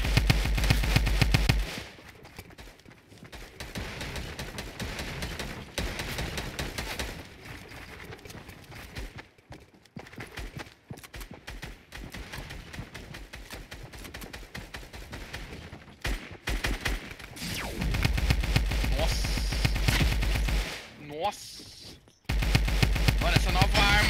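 Rapid bursts from a new gun in a shooter video game fire repeatedly across a busy match, loud blasts returning in stretches over game noise and background voices.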